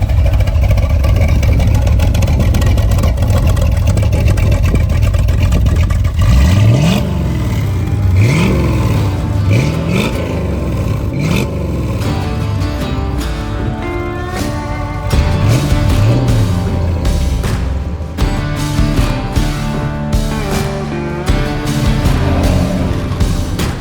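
A 1965 Corvette coupe with a 327 V8 and 4-speed rumbles from behind at a low idle, then blips through several sharp revs and throaty pulls, loud and close with a burbling exhaust.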